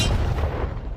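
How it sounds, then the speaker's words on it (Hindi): A tank cannon fires a single shot at a target of cash, one loud heavy boom at close range that rolls and decays across the whole second, with no voices. "ये 5 टैंक्स पैसों पर निशाना लगाकर 20 राउंड फायर करने वाले हैं"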